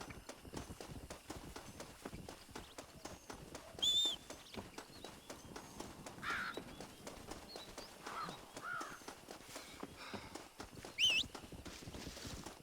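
A horse in the Red Dead Redemption video game approaches with a steady clip-clop of hooves, moderately quiet at first and continuing throughout, with a crow cawing faintly in the background.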